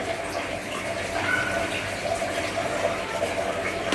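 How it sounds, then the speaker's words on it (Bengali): Water runs steadily from a tap as hands are rinsed beneath it, a close, continuous splashing flow. "হাত ধুয়ে নিব আর পানিগুলো দিয়ে"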